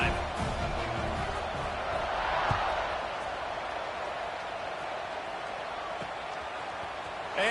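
Football stadium crowd roaring steadily after a scoring drive, a dense, sustained wall of cheering and noise that holds at an even level throughout.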